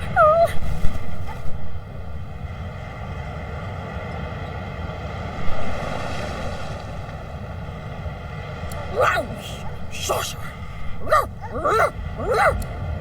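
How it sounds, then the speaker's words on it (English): A dog in Divinity Original Sin 2 lets out several short, high whines and whimpers, with a brief cry at the start and a cluster of whines toward the end, set over a low ambient rumble with a voice talking. "The dog whines and continues pawing at its nose."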